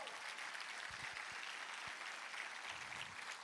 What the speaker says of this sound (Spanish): ¿Cuánto le dan un aplauso al Señor?